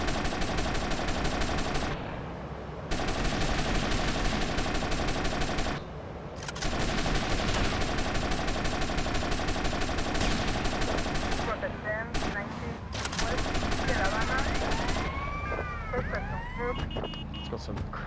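Sustained automatic Kruger rifle fire in GTA: Vice City, loud continuous bursts broken by short pauses, with sirens and game effects rising near the end and a voice talking faintly at times.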